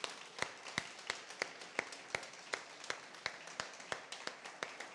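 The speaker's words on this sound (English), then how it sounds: "Let's give them a big clap." An audience in a church claps, a steady run of sharp, fairly regular claps that sound like a few people rather than a large crowd, with no talk over them.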